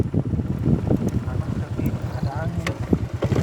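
Wind gusts buffet the microphone outdoors on a hot day, a steady rough rumble running throughout with no one speaking.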